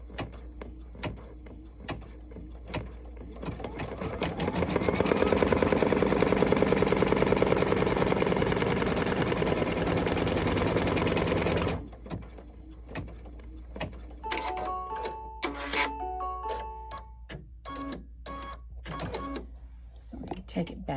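Sewing machine stitching a cuff placement line for a sew-along project, a steady mechanical whir running for several seconds, then stopping, followed by clicks and handling noises.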